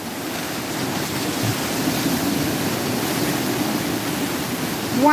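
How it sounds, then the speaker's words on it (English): Sea waves wash and splash steadily around a boat at sea, a continuous broad rushing surge with no one speaking. "these waves are really coming up now"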